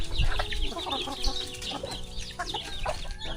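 Chickens clucking and chirping in a busy mix, with scattered high peeps from chicks over steady farmyard background noise.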